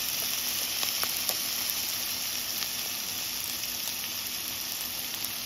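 Beyond Burger patties frying in olive oil in a pan, giving a steady bright sizzle with small crackling pops, close and continuous with no talking.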